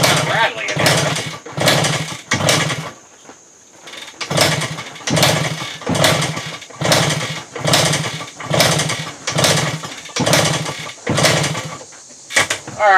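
A 1974 Suzuki TC 125 motorcycle engine being kicked over in an attempt to start it, with a rattly mechanical sound. It comes as a steady rhythm of about a dozen loud, close bursts, each roughly half a second long, with brief pauses between them.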